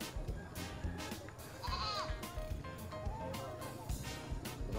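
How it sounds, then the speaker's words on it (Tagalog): A goat bleats with a wavering call partway through, at a livestock stockyard, over steady outdoor background noise and some nearby rustling. "Kambing oh. Kambing oh."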